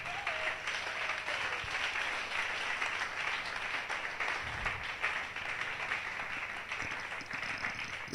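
A church congregation applauds and cheers in acclaim of the Lord, a broad continuous wash of clapping from a large crowd that holds steady across the whole stretch, with faint voices mixed in.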